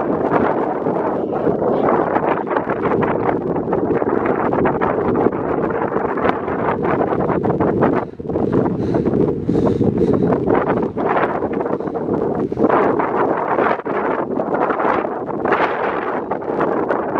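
Strong wind buffets the microphone outdoors on a hill, producing a loud continuous roar with gusty surges and brief dips throughout.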